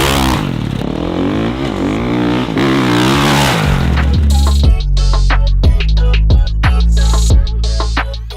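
A dirt bike engine revs hard and climbs through the gears. Rising pitch sweeps break at each shift, and loud choppy bursts of throttle follow near and alone, with no talking.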